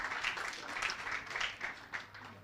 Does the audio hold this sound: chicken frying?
no